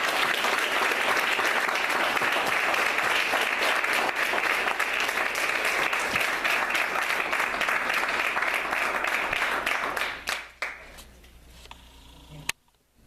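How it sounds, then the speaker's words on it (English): Sustained, dense audience applause fills a board of education meeting room in Verona for a quick photo, steady and loud for about ten seconds before tapering off into scattered claps and room quiet. "if you could come up and join us for a quick photo and a quick round of applause"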